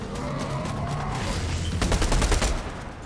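Gunfire in Fortnite, a continuous loud clatter that breaks into a rapid, dense burst of automatic shots toward the end.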